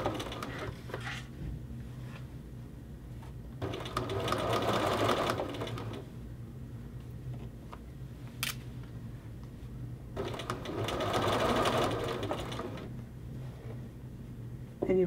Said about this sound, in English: As you're sewing along.